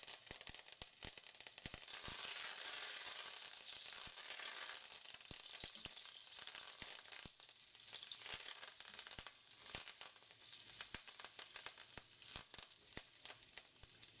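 Fresh thyme sizzles and fries in extra virgin olive oil in a hot pan, a steady, dense crackle with sharp pops throughout, fairly close and with no talking over it.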